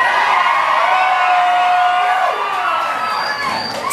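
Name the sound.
live concert crowd cheering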